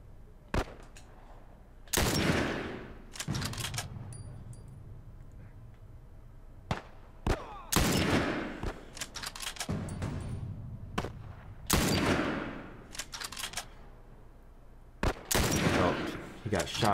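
Gunfire in The Last of Us, loud bursts of shots fired in clusters with short gaps between them, repeating across the whole stretch with faint game ambience underneath.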